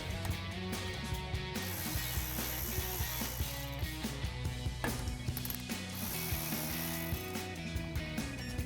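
A ratchet removes 10mm brake caliper bolts on a Jeep Gladiator, clicking rapidly and steadily up close through repeated strokes, with no talking.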